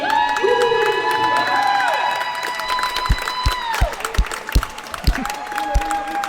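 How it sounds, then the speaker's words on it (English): A roller derby crowd cheers and claps, with sustained horn-like tones sounding over the noise, then sharper scattered claps and shouts as the tones fade. "I assume we were cheering for referees."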